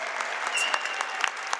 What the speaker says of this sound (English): Families and supporters, please feel free to applaud and cheer your graduates.